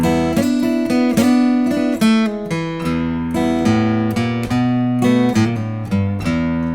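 Electric guitar plays a standard blues turnaround walk-up in E, with strong, rhythmic picked notes and chords ringing loud and close over nearly seven seconds, no voices.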